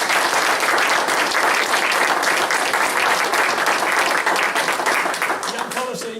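Audience applause for Stan Gill at a track and field gathering: dense, loud clapping from a crowd, sustained throughout and tapering off slightly at the end.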